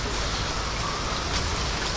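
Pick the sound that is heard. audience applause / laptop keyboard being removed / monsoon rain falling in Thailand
monsoon rain falling in Thailand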